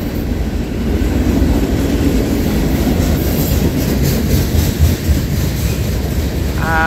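A Norfolk Southern freight train led by locomotive 3615 rolls steadily past at Tarentum, Pennsylvania, with loud continuous wheel rumble and rhythmic clickety-clack of the railcars close by, plus a faint squeal near the end.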